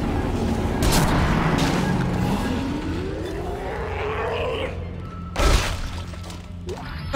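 Gunfire and crashing impacts in the sci-fi horror video game Dead Space 2, a dense, loud burst of shots and smashing debris with a sharp blast near the end, over a steady rumbling game backdrop.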